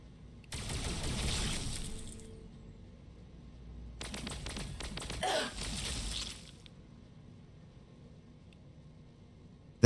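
Necron units firing their weapons in the Warhammer 40000 Battlesector strategy game, two bursts of dense energy-weapon fire a couple of seconds each, separated by a quieter lull, with no talking.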